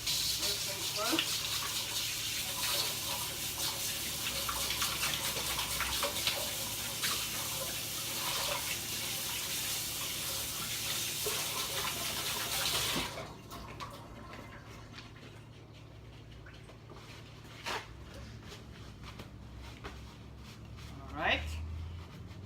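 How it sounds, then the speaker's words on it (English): Water running from a tap during handwashing, a steady broadband splash for about half the clip that then stops, leaving faint drips, clatter and quiet room noise. "What we do now is I wash my hands."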